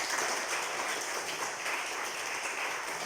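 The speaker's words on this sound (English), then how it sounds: "Let us give another round of applause." A workshop audience gives continuous applause, a thick, even crowd of clapping hands that fills the whole stretch at steady loudness.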